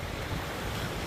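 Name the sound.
wind at a beach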